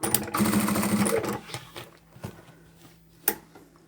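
Sewing machine stitching lining and main fabric for a small zippered pouch, a rapid close mechanical run for about a second and a half, then slowing stitches, quiet handling and a single sharp knock.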